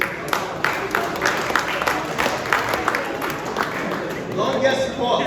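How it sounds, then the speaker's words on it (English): At a golf tournament reception and awards event, a crowd gives a round of applause. Rhythmic clapping carries on steadily under chatter and calls from the room. "Please, a round of applause to our ladies, please."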